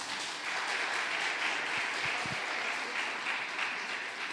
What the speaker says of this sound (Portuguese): palmas para todo mundo aqui presente